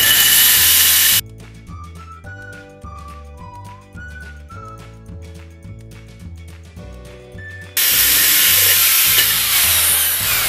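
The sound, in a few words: power drill drilling a hole in a planter pot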